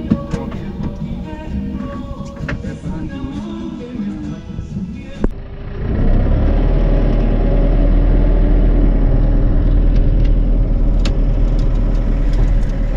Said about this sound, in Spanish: apareció este auto con música a todo lo que da